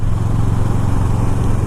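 Kawasaki Ninja 650R motorcycle engine running close and loud with a steady throbbing idle and slight rev fluctuation, heard alone.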